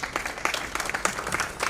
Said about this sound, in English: So please give a big round of applause to my co-chair